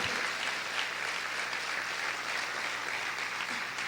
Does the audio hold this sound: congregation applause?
yes